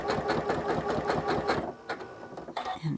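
Sewing machine running decorative quilt stitches with a walking foot, a fast steady rhythmic whir of needle strokes that slows and stops near the end.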